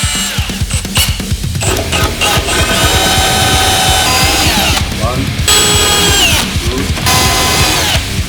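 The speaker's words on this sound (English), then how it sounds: "I'm going to pre-drill the mantle and then I'm going to drill it through the metal" A power drill whines through several bursts, its motor rising and falling in pitch as it drills through a wooden fireplace mantel and metal, close and loud.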